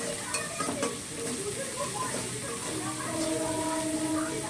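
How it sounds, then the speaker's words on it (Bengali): Spice masala and potatoes fry in a pan with a continuous close hiss and sizzle, while a spoon stirs and scrapes occasionally; a Bengali catfish curry is being cooked. "লাল লাল করে ভেজে নিতে হবে মশলাটা।"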